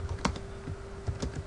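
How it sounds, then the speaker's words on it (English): Someone types on a computer keyboard while entering a database query: a few scattered, close key clicks at an uneven pace, with no talking. "at that point you're ready to start typing in"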